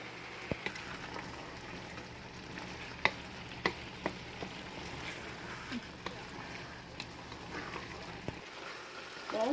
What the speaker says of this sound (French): I'm just going to cook in oil for about 5 minutes.